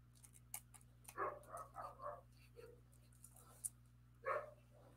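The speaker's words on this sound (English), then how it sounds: "I don't know if you can hear it, but my grand puppies are still with me" Small dogs bark and yip indoors in a few short, fairly faint bursts over a steady electrical hum, some distance from the microphone.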